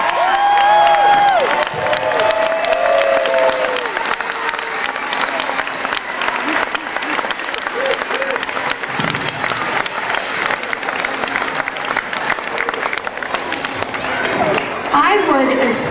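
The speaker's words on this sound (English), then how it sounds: "give our first graders one more round of applause." An audience applauds first graders after a spring school performance, loud sustained clapping with some cheering, while a few voices and musical tones sound briefly at the start.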